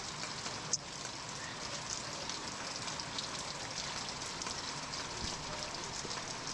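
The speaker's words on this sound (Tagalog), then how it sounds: "Bumakas pa yung ulan." Steady rain falls throughout, a continuous dense patter of drops hitting surfaces close by, with one brief sharp knock near the start and no talking.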